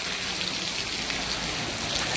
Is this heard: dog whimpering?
no